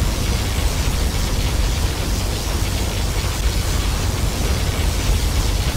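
A particle cannon blast in Command & Conquer Generals: a loud, unbroken roar of noisy static-like energy that holds steady at full intensity throughout, with no pauses or voices.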